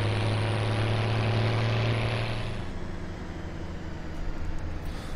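Tractor engine in the video game Farming Simulator 17, a steady droning hum with a strong low tone that cuts off partway, leaving a rougher, quieter engine rumble alone with no talk.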